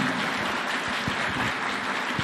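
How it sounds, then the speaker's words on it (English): An audience at a government plan launch at a State House gives a continuous round of applause, a close, even hiss of many hands clapping with no pause or talk over it. "One more round of applause, please."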